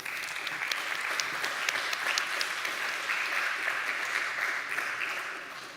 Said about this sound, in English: Please give him an applause.